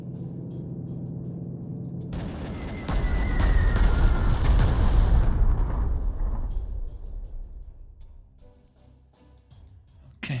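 Artillery fire in the Panzer Corps 2 strategy game: a heavy booming blast that swells into a long rumbling roar with crackling debris, then fades to a quieter tail before a final sharp hit at the end.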